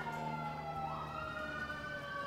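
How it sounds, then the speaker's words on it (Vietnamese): A fire truck siren wails as the truck passes along a road near a house, a steady rising and falling tone over low traffic rumble, moderately distant and unbroken. "Em để lần mỗi lần em làm clip là có xe cứu hỏa chạy ngang"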